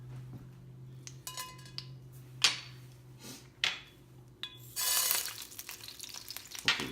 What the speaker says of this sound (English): I'm putting sweet paprika in instead for the color. And I'm gonna toss it in this oil right now.